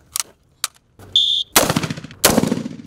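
Rifle fire at police SWAT ballistic shield training outdoors, a few sharp isolated shots, a brief buzzer tone, then two loud bursts of rapid gunfire ringing out close by.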